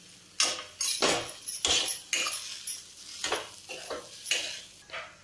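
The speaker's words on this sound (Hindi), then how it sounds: "लगभग हम 5-6 मिनट तक फ्राई कर लेंगे ऐसे ही चलाते हुए" Potato masala frying in a pan while being stirred, a string of loud scraping, clattering spoon-on-pan strokes in an irregular rhythm over a soft sizzle, close up with no talk.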